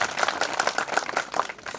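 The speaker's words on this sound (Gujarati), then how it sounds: "આને તમે તાળીઓના ગળગાથી બતાવો" A wedding audience at a village mass wedding in Vegli claps in a brief, moderately loud burst of scattered applause.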